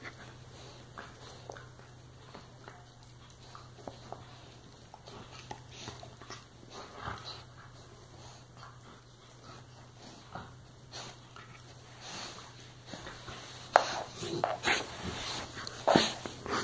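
An excited dog plays with a new toy, with faint snorts, sniffs, chewing and scuffling that grow louder and busier toward the end, heard at low level in a quiet room.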